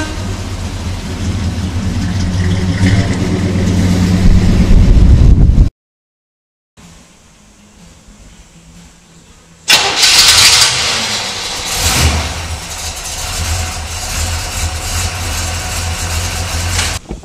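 A fuel-injected 1956 Chevy wagon engine cranks and idles loudly for several seconds, cuts out into a brief silence, then restarts with a sharp burst and settles into a steady, close rumbling idle.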